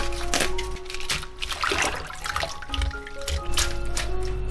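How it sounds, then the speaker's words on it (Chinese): Chinese cabbage being rinsed under running water from a tap, a steady close splashing and trickling with a few brief drips, continuous for a few seconds with no talking. "来把一些白菜清洗干净"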